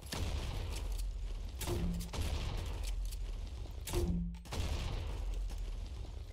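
Gunfire from a weapon in the video game Combat Master comes in rapid bursts, two or three volleys with short gaps, fairly loud over a constant background hum.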